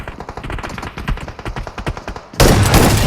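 Rapid bursts of automatic gunfire crackle in a video game shooter, then give way to a loud, sustained blast of noise near the end.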